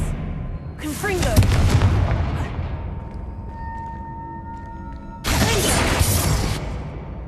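Confringo spell explosions in Hogwarts Legacy, two loud fiery bursts with a crackling, rumbling tail, the first a little after the start and the second near the end, over low background game audio.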